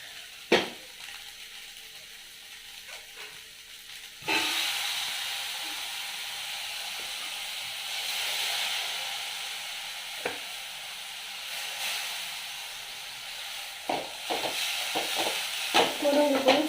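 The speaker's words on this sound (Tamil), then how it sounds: "முருங்கைப்பூ கொஞ்சம் லேசாக வதக்கிக்கலாம்." Drumstick flowers sautéing with softened onions in a pan: a quiet hiss that swells into a steady sizzle, punctuated by occasional spoon scrapes and taps, close by and moderate in level.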